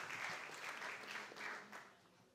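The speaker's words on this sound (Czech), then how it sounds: "tleskáme pro 1. místo" Audience applause for a first-place award at a live short-film festival event, a steady sustained clapping from a crowd throughout.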